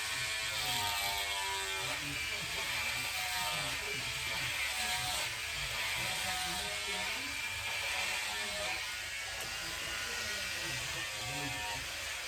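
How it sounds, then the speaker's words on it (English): Electric hair clippers cutting the top of a man's hair during a hair system fitting, giving a steady close buzz and whir that runs unbroken and fairly loud throughout. "Definitely need to oil my clipper, so we'll get to it in a minute."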